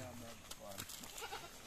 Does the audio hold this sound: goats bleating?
yes